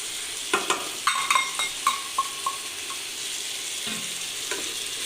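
Drained soaked masoor dal frying with vegetables in a pan, a steady sizzle punctuated by a quick series of sharp spatula clinks against the pan, then a softer scrape, close up with no talking.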